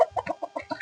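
Chickens cluck softly in a quick run of short notes at a farm with a guava orchard, heard alone and fairly close.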